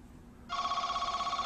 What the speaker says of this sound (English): Call's coming in.